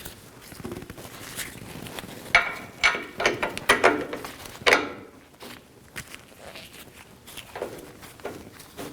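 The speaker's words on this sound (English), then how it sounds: "do the best you can with torquing that nut down" A hand wrench works a lower shock nut on a 1999-2007 Chevy Silverado 2500HD, giving a run of close, irregular metallic clicks and ratcheting scrapes amid soft shuffling and handling noise.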